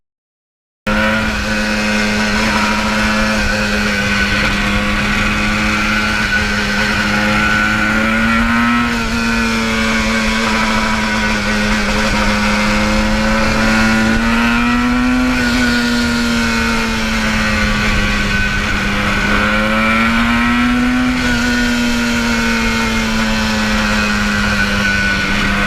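A 1977 Yamaha RD400 two-stroke motorcycle engine runs loud and close, a steady buzzing idle with several slow rises and falls in revs over a long stretch, with no voices.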